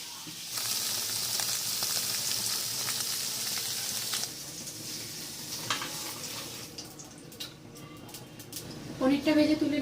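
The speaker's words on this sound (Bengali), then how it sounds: "এবারে হচ্ছে পনিরটা ভাজবো। তো একটু হচ্ছে ঘি দিয়ে দিলাম।" Paneer frying in ghee in a kadai in a home kitchen, a steady sizzle running throughout with occasional stirring clatter, and a louder burst of activity near the end.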